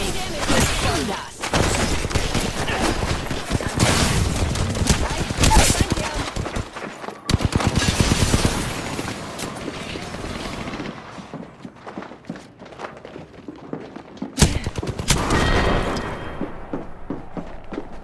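Video game gunfire from a shooter match: sustained loud bursts of rapid shots and blasts with short pauses between volleys, close and intense, with a voice talking underneath at times.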